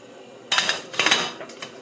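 A lid is set onto a cooking pot of plantain and carrots boiling in water, giving a sudden close metallic clank followed by a few lighter rattling clinks.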